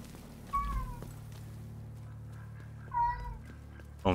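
A cat meows several times at moderate volume over a steady low hum, with gaps of quiet between the calls and no one talking.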